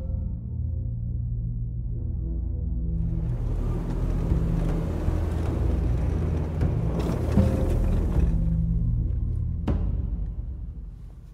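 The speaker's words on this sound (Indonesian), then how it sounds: "Terdengar deru truk lewat." A heavy truck rumbles past, its low engine drone swelling and growing louder in the middle before fading, with a sharp knock near the end.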